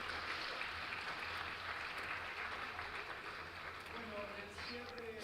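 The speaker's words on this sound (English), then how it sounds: "A round of applause for you." Audience in a regional health forum auditorium applauding, a steady wash of clapping throughout, fairly distant and even, with faint voices underneath toward the end.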